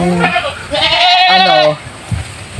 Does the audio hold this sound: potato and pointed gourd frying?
no